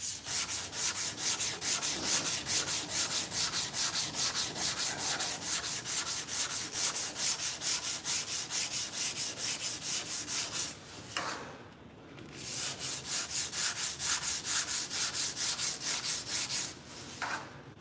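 Block sanding a body panel by hand: steady rhythmic back-and-forth rasping strokes, close and loud, running for a long stretch with two brief pauses near the end, no talk.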